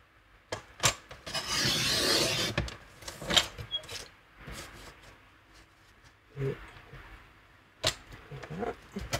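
Paper strips being cut for a handmade scrapbook mini album, heard as short rasping snips and rustles near the mic, with a longer dense cutting stroke early on and scattered quiet handling sounds.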